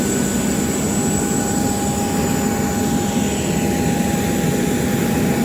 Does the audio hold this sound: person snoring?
no